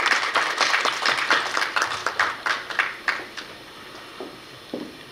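Audience applause welcoming a new doctoral student at a Korea University graduate school entrance ceremony, a burst of many hands clapping that thins out into a few scattered claps.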